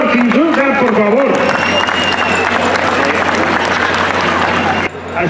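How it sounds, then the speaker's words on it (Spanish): Audience applause at a rancho event in Tzintzuntzan, given for a composer leaving for a new band; dense, sustained clapping fills the space from start to finish, with voices talking and singing over it near the beginning. "Yo les pido pues un aplauso para él"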